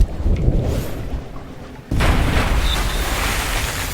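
A torpedo explosion in the video game Sunless Sea arrives as a sudden loud boom. A dense rumbling roar follows it and fills the rest of the moment.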